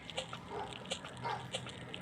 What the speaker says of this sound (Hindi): तभी दूर से कुछ कुत्ते मेरी तरफ देखते हुए भौंकने लगे।